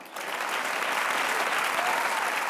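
Studio audience on a Zee TV show breaking into applause, a dense burst of clapping that starts abruptly and carries on steadily and fairly loud, with crowd voices faint underneath.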